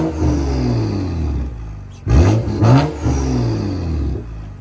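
A BMW M235i with an aftermarket exhaust in sport mode, burbles mapped out, idles with a low steady rumble, then gives two quick revs to about 3000 rpm before settling back to idle, close and loud.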